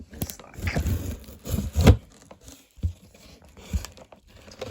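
Pliers tear and scrape through a cardboard box in quick, uneven bursts of crinkling and ripping, close and fairly quiet, with short pauses between the cuts.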